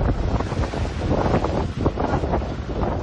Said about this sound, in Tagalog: Malakas na hangin at hampas ng alon din ang sumalubong sa mga residente ng Dimasalang.